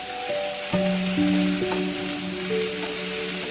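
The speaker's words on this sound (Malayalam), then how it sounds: "വെളുത്തുള്ളി പച്ചമുളക് എന്നിവയിട്ട് നന്നായിട്ട് വഴറ്റണം" Garlic and green chilies sauté in a pan for beef vindaloo, a steady close sizzle running beneath clear sustained tonal notes that shift in pitch.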